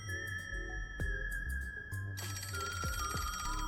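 A phone rings in the detective game Master Detective Archives: Rain Code, repeating electronic ring bursts with a tonal musical background, clear and moderately loud with no talking.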